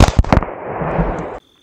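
Gunshots at an outdoor shooting range target during a Green Beret range day in Pennsylvania, with a few sharp, loud cracks in quick succession followed by a brief echoing tail before silence.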